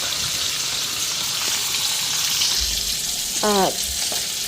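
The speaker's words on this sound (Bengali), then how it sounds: "মাছটা এখন একটু উল্টায় দেখ বাবা ফুটিস না গ্যাসটা বাড়ানো মাত্রই থাপ থুপ শুরু হয়ে গেছে" Fish frying in oil in a pan on a gas stove gives a steady, close, dense sizzle, with a short tonal squeal near the end and a brief spoken word.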